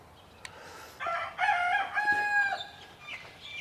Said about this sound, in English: Be even more super cool if that rooster would shut up